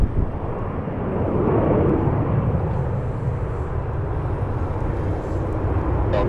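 A Republic Airways jet airliner departs Cleveland Hopkins airport, heard as a steady, broad engine roar that holds strong and even throughout, with no voices.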